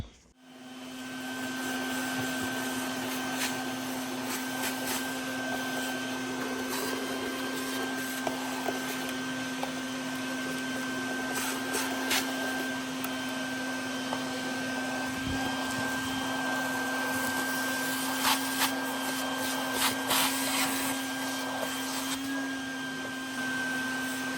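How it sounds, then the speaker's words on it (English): A shop vac runs steadily with a loud, continuous hum and whine as it sucks debris out of a 1983 Honda XR200R motorcycle that has been sitting for years. Occasional rattles and clicks are heard as junk is pulled in. "First, I'm gonna get a shop vac in there and just get all that junk out."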